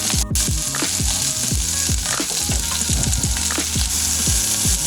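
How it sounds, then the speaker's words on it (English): Loud, continuous sizzling of vegetables frying in hot oil for veg pulao, with crackles and popping spatters close up and the scrape of stirring throughout, no voices. "Just as soon as they start crackling, I'm going to be adding all my vegetables"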